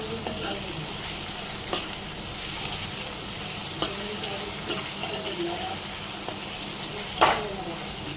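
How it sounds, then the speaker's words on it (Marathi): Onions fry steadily in a pan for a Konkani-style vegetable dish, a continuous close hiss of sizzling broken by occasional scraping stirs and a sharper clatter near the end, no voices. "कारण हा आपण कांदा ब्राऊन रंगावर येईपर्यंत फ्राय करून घ्यायचा आहे."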